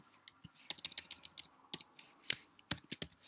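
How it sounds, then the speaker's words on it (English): Crisp, uneven keystroke clicks from a computer keyboard as someone types code for a JavaScript game, close and fairly quiet, in short bursts with brief pauses and no talking. "It's maybe quicker for me to type it."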